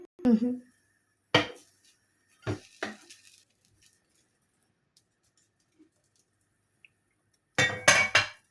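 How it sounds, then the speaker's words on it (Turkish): A lid set onto a frying pan of tava böreği, several distinct clinks and clatters of metal and glass with quiet gaps between, then a final cluster of knocks. "Üstünde kapağını böyle kapatalım."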